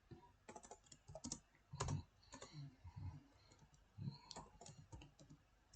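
Rapid clicking of keys on a computer keyboard, close and fairly faint, in irregular bursts of typing with short pauses between them.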